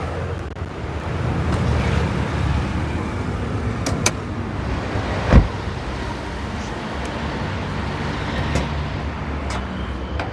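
A Toyota Noah's engine idles under the open hood, a steady low running hum heard close, with a few brief clicks and a thud partway through.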